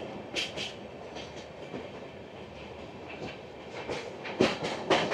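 The Sealdah–Sabroom Kanchanjunga Express runs on its rails, heard from aboard as a low, continuous rumble punctuated by sharper clickety-clack bursts, moderately loud with no talking.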